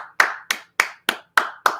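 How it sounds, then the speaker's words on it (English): Six sharp, evenly spaced hand claps ring out close and alone, each crisp slap followed by a short decay in a steady rhythm. "I can't even stop clapping for that."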